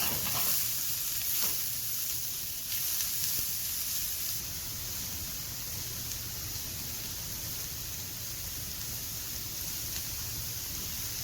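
Finely chopped onions sauté in a pan for mutton cutlets, making a continuous dense hiss and sizzle heard up close, steady from start to finish with a few light stirring touches.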